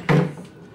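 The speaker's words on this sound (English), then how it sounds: "this is a full wardrobe so sliding door and another sliding door" A sliding wardrobe door in a deluxe hotel room at Disney's Wilderness Lodge Resort gives one short, close thud-and-slide, then quickly fades into room quiet.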